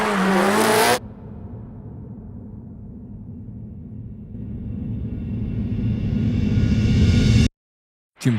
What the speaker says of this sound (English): Block drifted an all-new course in a freshly tuned Subaru Impreza